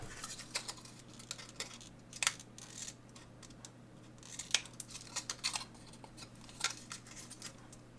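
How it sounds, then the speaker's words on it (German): Scissors snip through a cardboard box while a flip-top box is made, giving a series of crisp, close cuts at an uneven pace over a faint background hum. "Und dann schnappe ich mir die Schere und schneide das ab."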